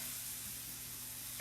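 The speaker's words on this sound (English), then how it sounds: "Move them around the pan, make sure I'm scraping up all of these little brown bits from the steak." Mushrooms searing in a pan with browned bits from steak, a steady close sizzle with light scraping as they are stirred, no voices.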